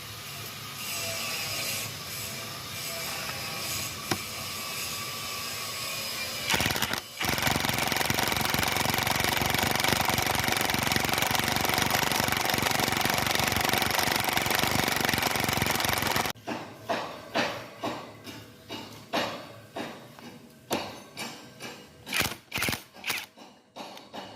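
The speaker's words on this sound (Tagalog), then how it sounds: "Ito pong gamit natin, Dagmara impact wrench." An impact wrench working on the frame of a Caterpillar D6D bulldozer: a long, loud, continuous hammering rattle, then a series of short, sharp bursts with brief pauses between them, close by.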